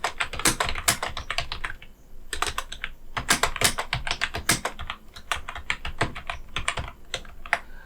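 Rapid typing on a computer keyboard while writing a document in MS Word, with dense, uneven bursts of close key clicks and short pauses and no talk.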